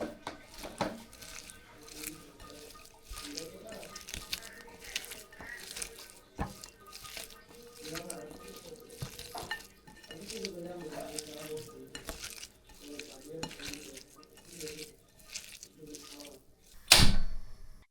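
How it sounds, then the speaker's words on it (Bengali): Eggs being mixed by hand with turmeric, salt, chili and coriander powder, a soft, steady squelching and stirring close by, with a few light knocks against the bowl and one sharp clatter near the end. "একটু হলুদ, একটু লবণ, একটু মরিচ ও একটু ধনিয়া গুঁড়ো দিয়ে সবকিছু একসাথে মেখে নিচ্ছি"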